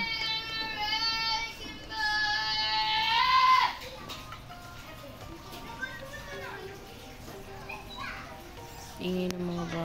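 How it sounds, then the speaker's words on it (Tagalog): Children play noisily outside, with high shrill shouts and squeals rising to a loud burst early on and then scattered calls continuing over a background of other voices. "Ingay ng mga bata sa labas."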